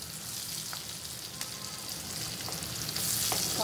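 Onions fry in a pan for a brahmi-leaf kulambu, a steady, fairly loud hiss and crackle close by, with a few faint ticks of stirring and no voices.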